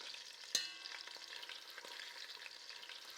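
Hot extra virgin Greek olive oil sizzles steadily in a pot, a continuous close crackling hiss with one sharp pop near the start and no voices.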